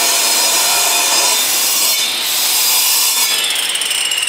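A powerful angle grinder cutting beneath a patio door profile during a door replacement, producing a loud, continuous, harsh abrasive roar with slight variations in pitch and no speech.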